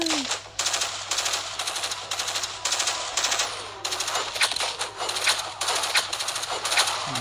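Rapid bursts of automatic gunfire from the survival video game State of Survival chatter steadily over a constant background tone, with a voice talking faintly beneath.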